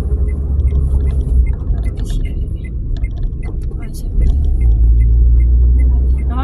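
Car driving along a bus lane in traffic, a steady low engine and road rumble from inside the cabin, fairly loud and continuous, with a brief rise in the second half.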